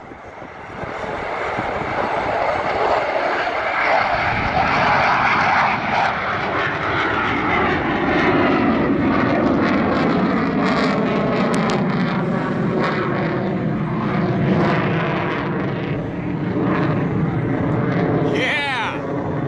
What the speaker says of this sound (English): U-2 Dragonlady on the roll. And he's airborne.